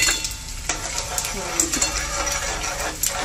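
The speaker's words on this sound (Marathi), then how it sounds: "छान तळू द्यायचं आपल्याला. कच्चा बिलकुल नाही ठेवायचा." Edible gum (dink) frying in hot ghee in a pan, with steady close sizzling and bubbling, stirred with a utensil that clinks and scrapes against the metal.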